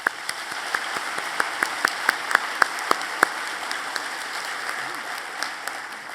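A crowd at a 2019 university convocation claps in a sparse, uneven patter that starts fairly strong and thins out to scattered single claps.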